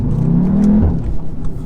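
A 2017 Audi TTS with DSG gearbox accelerating hard, its exhaust revving loud and close from inside the cabin as the engine note climbs and holds, with no talk.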